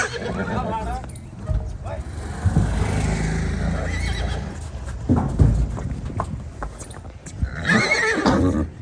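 A mare neighs and whinnies close by amid people talking, with hoof clops and general commotion, the calls rising loudest near the end.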